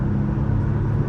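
A 2008 Toyota Solara's V6 engine, heard from inside the car, holds a steady low drone after a downshift to about 3,500 RPM, continuous and moderately loud for about a second with no one speaking.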